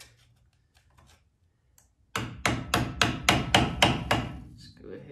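A 10-ounce hammer taps a car's wheel dust cover during a brake and steering rebuild: after a quiet start, about eight sharp metallic strikes ring out in a fairly even rhythm, close and clear.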